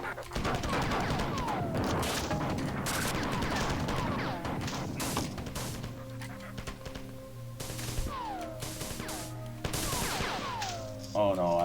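Spits weapon fire in the Marathon video game: a loud, clattering stretch of rapid shots at first, then thinning into scattered bursts over droning tones and sweeping effects.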